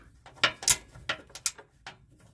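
A ratcheting driver clicks in short irregular bursts while self-tapping screws go into the wood underbelly of an RV, close by with quiet gaps between the clicks.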